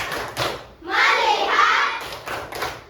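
A grade 4 primary school class in Samarinda claps together in a rhythmic classroom clapping chant, with children's voices chanting between the short bursts of hand claps.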